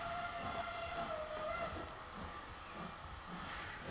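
Austrian trains run in the Transport Fever 2 video game with a steady mechanical rumble, a continuous hiss and a faint whining tone, all at an even level with no voices.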